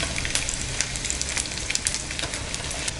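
Wheat vegetable rolls fry in oil over a low flame, giving a continuous bright sizzle dotted with rapid crackles and pops, close and steady throughout.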